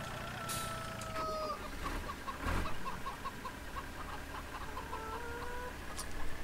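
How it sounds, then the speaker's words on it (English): Video game chickens in Farming Simulator 2013 cluck in a steady, repeated chatter over a constant background hum, with a faint crow-like call rising now and then. "These kind of video game chickens do that."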